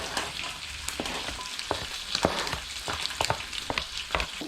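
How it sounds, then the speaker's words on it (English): Bacon fries in a pan with a steady crackling sizzle, punctuated by sharper pops and spatters and occasional stirring scrapes, close and continuous without any talking. "Bacon is starting to, well, it's cooking up a bit more."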